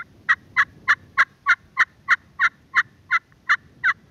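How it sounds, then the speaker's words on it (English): Louder yelps on a friction pot turkey call played with a striker under heavier pressure: a steady run of about twelve strong, evenly spaced notes, close and loud with no talk. "Now, the more pressure I put on it, the louder it's gonna get."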